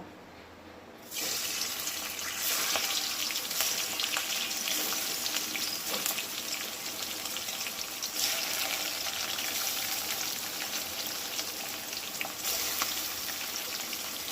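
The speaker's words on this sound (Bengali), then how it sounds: "এবার এই কড়ার মধ্যে যে তেল দিলাম, এর মধ্যে এই যে চিংড়ি মাছগুলো রেখেছি, চিংড়ি মাছগুলো কিন্তু লাল লাল করে ভেজে নেব।" Prawns frying in hot mustard oil in a kadai, a steady loud broadband sizzle that starts abruptly and holds for the whole stretch with faint stirring clicks, no talking.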